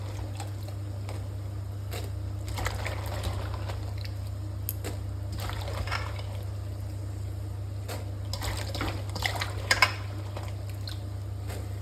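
Water is poured into a pickle mixture, a soft trickling and splashing that comes in uneven bursts over a steady low background hum.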